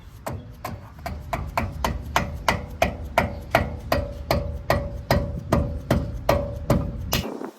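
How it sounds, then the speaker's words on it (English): Steady, evenly spaced hammer taps ring sharply on a metal brake caliper retainer pin, about three per second, each strike giving a bright metallic ping, close and continuous. "you probably heard like a metallic ching"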